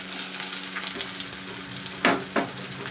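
Papaya and onion sizzle in oil in a pan with a constant close hiss. A couple of sharp scraping stir strokes near the end briefly rise above it.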